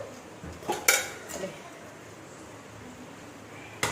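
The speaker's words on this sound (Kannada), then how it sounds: "ಮಿಕ್ಸ್ ಮಾಡ್ತಿದ್ದೆ ಅವು ಗೋಬಿ" Cauliflower being mixed in a bowl for gobi fry: a few quick clinks and scrapes of a utensil against the bowl early on, then a quiet stretch and one last clink, close by.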